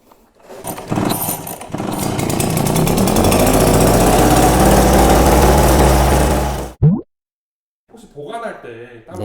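A Yamasaki YK9000B leaf blower engine starts up and roars loudly and close for about six seconds, then shuts off abruptly, leaving only faint handling noises afterward.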